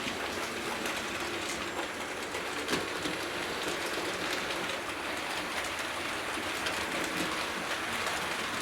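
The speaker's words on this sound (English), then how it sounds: "here's another panorama of the loco going through the top bend" A Hornby P2 R3440 gloss model locomotive runs through the top bend of a model railway, its steady, continuous whirring rumble of motor and wheels on track holding at an even level throughout with no talk.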